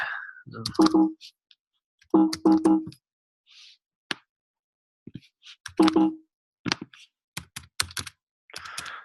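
Someone types an email on a computer keyboard in quick clusters of close key clicks separated by pauses, with a few louder single key presses.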